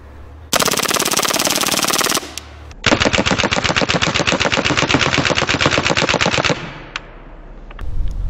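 A Hatsan Blitz full-auto .30 caliber air rifle empties its magazine in two long rapid bursts of evenly spaced loud sharp shots, separated by a short pause, close and with no talking.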